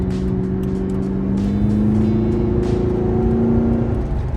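Mercury Marauder V8 with a stock throttle body revving steadily, a loud, close engine drone with rising and falling pitch held throughout, no speech.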